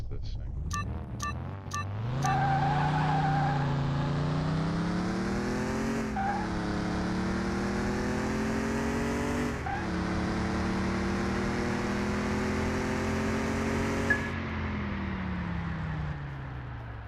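A car launches hard in Car Mechanic Simulator 2021, its engine revving high and climbing through several gear changes while the tires squeal, all loud and continuous for most of the clip.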